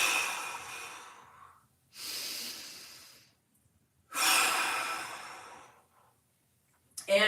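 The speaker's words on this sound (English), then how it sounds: "2 big breaths." Two big, deep breaths during a mobility workout bridge exercise, each a long airy inhale followed by a slow exhale, heard close and alone, with a faint start of a third at the end.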